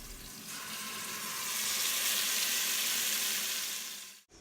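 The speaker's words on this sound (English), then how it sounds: "now I'm just adding the chicken into the pot so that I can brown it on both sides" Chicken browning in an Instant Pot gives a steady, bright sizzle that swells slightly in the middle and holds for several seconds before cutting off abruptly at the end.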